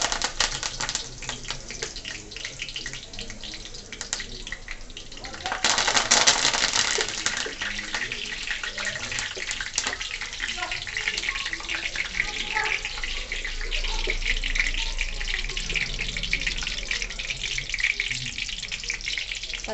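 Curry leaves frying in hot oil while a chicken gravy is prepared, a steady loud sizzle and crackle throughout, swelling into a sharper burst of spitting partway through.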